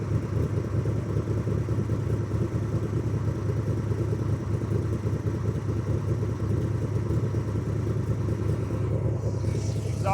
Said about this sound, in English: Exhaust sounds awesome.